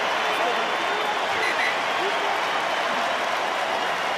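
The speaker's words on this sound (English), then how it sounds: "Big applause for Richie McCaw" Stadium crowd at the 2015 Rugby World Cup pool match between New Zealand and Georgia applauding a player leaving the field, a dense, continuous roar of distant clapping and crowd noise, with a commentator talking over it.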